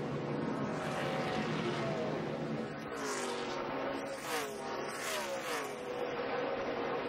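A NASCAR race car, driven by Matt Kenseth, exits pit road at Pocono in a 2008 race, its engine revving and rising in pitch under a continuous wash of race noise, with faint voices underneath.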